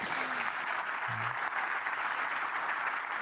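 Audience applause at a conference talk on AI agents, a steady even wash of clapping from a crowd, moderately loud and continuous, with no speech over it.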